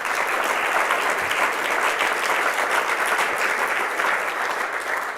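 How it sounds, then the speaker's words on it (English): An audience applauds a presenter being introduced, a thick, continuous patter of many hands that stays loud and even from start to finish. "So please, a round of applause for Yinka Shunabadi."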